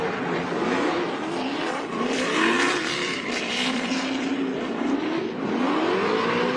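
A race car engine at the World Time Attack Challenge, heard from just outside the commentary box, roars steadily and loud with rising and falling revs as the car passes, and no talk over it.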